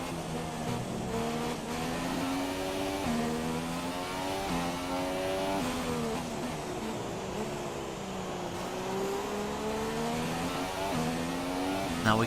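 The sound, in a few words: Formula 1 race car engine in F1 2017 video game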